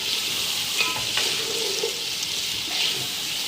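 Peas with masala fry in a pan, a close steady sizzle with stirring scrapes and occasional clinks, no talking.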